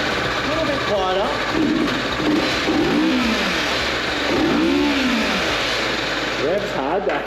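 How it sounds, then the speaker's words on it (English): A cruiser motorcycle engine, compared against a Kawasaki Vulcan on stock exhaust, revs hard several times in rising and falling sweeps over a steady idle rumble. It sounds close and loud, with people talking over it. "Revs hard, actually."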